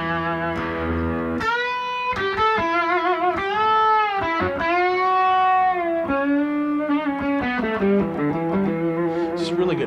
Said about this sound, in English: so I got some distortion on.